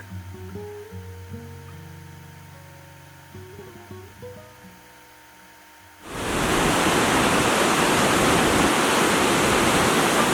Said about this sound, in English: Listen to that power, that water.